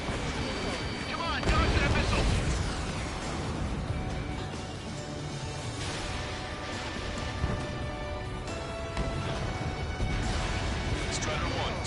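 A missile strikes a target in the Ace Combat 7 video game, and a heavy boom rolls out amid continuous roaring jet and wind noise. Radio voices talk over the din.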